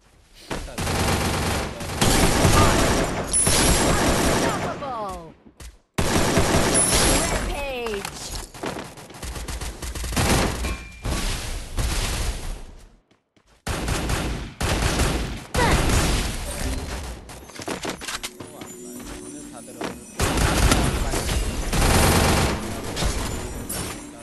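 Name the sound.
AK-47 gunfire in a battle royale video game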